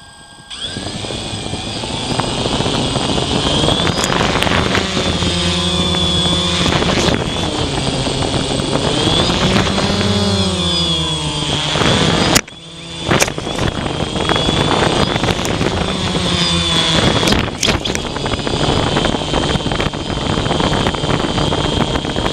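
DJI Phantom drone motors spin up and hold a steady, high-pitched buzzing whine with layered propeller hum at Day 1 of flying at ATCA, loud and continuous with brief shifts in pitch and a short dip midway.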